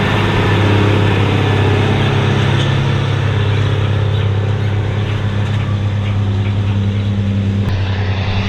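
A belly dump truck hauling a load of rock rolls in at a construction site for a house pad, its engine a steady, loud, close diesel rumble that holds throughout without talk.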